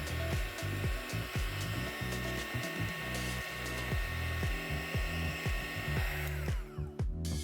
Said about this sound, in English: use the heat gun to shrink the tubing